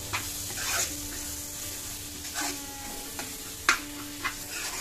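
Capsicum sautés in a hot pan for Mumbai street-style pav bhaji, giving a steady close sizzle with occasional stirring scrapes and light clinks, no voices.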